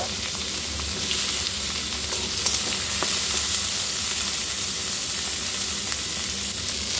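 Steady, loud sizzling of beans, carrots and peas frying in hot oil, continuous throughout with occasional faint crackles and stirring clicks, no talking.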